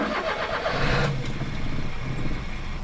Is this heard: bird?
no